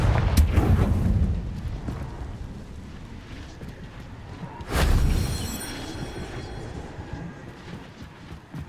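Spell blasts in the fantasy video game Hogwarts Legacy, a loud rumbling explosion at the start and a second sharp burst near the middle, each fading into a booming tail with no speech.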